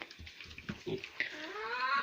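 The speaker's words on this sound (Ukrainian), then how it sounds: "Да, Пепа? Свинка Пепа" A pig grunts in short bursts, then gives a rising, drawn-out squeal near the end, close and moderately loud.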